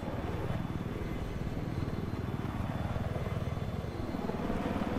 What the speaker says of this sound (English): Let's see how this helicopter fight goes down.